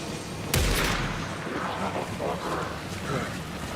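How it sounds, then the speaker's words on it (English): A sharp gunshot cracks out in Alan Wake 2, followed by a long rumbling tail of game ambience, with a voice talking faintly underneath. "They just shot me."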